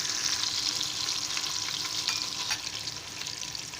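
Sliced onions fry in hot oil until golden for a black masoor dal, giving a steady, close hiss of sizzling with a few light stirring clicks. No one speaks.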